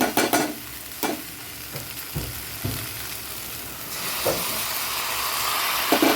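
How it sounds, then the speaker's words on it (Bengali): Garlic, ginger and onion paste with spices frying in a pan for a Bengali vegetable and fish curry, a steady sizzle broken by several distinct scraping stirs, close and fairly loud, with no talking. "একটুখানি কষিয়ে নিই"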